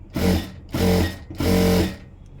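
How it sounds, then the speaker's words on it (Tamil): A sewing machine stitches a thin blouse knot rope in three short, even bursts of steady whirring, each about half a second long, with brief pauses between them. "நான் தைக்கும்போது ரொம்ப இந்த பக்கம் தள்ளிட்டு தான் தைக்கிறேன்"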